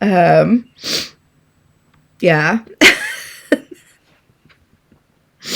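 One sharp sneeze bursts out close and loud between short stretches of nearby conversational speech, surrounded by a few sniffs and brief pauses of quiet.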